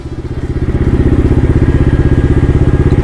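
Honda Forza 350 scooter fitted with a turbo, ridden close up: a loud, rapid pulsing engine chug with a steady throbbing rhythm that builds slightly in level, no voices.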